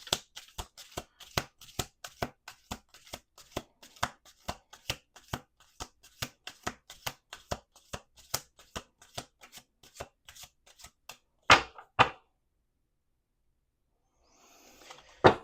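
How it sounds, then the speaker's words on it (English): A deck is shuffled nearby in rapid, even riffles, then a couple of sharp final snaps, a pause of quiet, and faint rustling. "One last shuffle."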